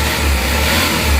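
Diesel engine of a Hyundai H100 revving, a loud, close, continuous rumble with a slight rise and fall in pitch over a short burst, with no voices.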